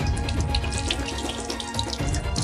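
Water tap running steadily at a sink for hand washing, a close, continuous splashing rush with no talk.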